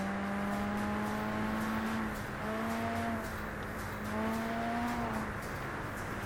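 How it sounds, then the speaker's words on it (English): Car engine in a JDM racing video game drifting at high speed along a highway, its loud, sustained whine running throughout and falling and climbing in pitch across several gear-like sweeps, with no voices over it. "high-speed drift on the highway"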